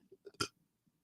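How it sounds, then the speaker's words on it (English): A single short, sharp burp produced on command by a man, with a few faint mouth noises just before and after it. "I can expand my esophagus and get air in and burp on command"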